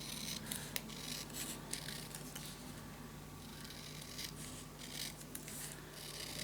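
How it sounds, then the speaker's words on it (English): Scissors cut paper strips for a Christmas scrapbook mini album, making quiet repeated snips and rustling close by, with no voice. "You also can use your scissors, by the way."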